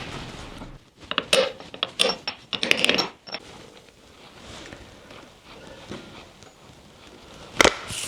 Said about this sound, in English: Removing the rear output seal.